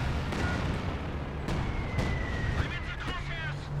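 Stuka dive bomber attack in the WWII strategy game Company of Heroes 2: booming explosions and scattered gunfire over a constant battlefield rumble, with a faint whistling tone, heard under talk.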